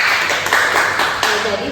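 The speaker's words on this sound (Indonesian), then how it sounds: "Ya, tepuk tangan untuk Indah." Classroom of primary school pupils clapping for a student, short bursts of claps under a teacher's voice and ringing room sound, a few distinct sharp hits.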